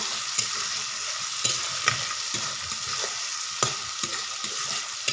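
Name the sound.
frying onions and tomatoes with salt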